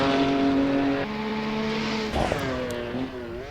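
A race car laps a circuit in Assetto Corsa, engine droning steadily with shifting pitch, dipping at a gear change and rising again, heard loud and alone from an external view.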